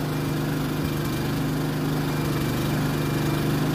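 Firman WO3081 generator engine running steadily on a slope, a loud, close, continuous hum with a constant low drone and no change in speed.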